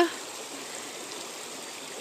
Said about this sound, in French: Et on suit ce ruisseau qui s'appelle le Pwelang.